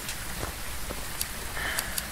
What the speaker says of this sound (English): Oh, because it's raining, that's why.